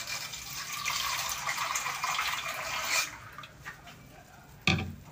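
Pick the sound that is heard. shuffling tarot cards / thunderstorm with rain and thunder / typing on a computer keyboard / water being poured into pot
water being poured into pot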